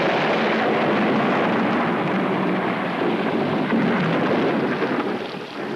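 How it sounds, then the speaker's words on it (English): A thunderstorm with a dense, continuous roar of rain and rumbling thunder, loud and sustained without pause. "The heavens were split asunder by the greatest storm ever known along the Folly."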